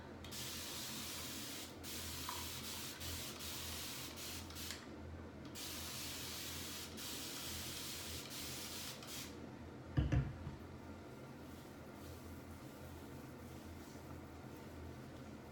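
A spray bottle mists water onto damp hair in steady, soft hissing bursts that run through most of the stretch, fairly close, with one brief louder knock near the end and no talking.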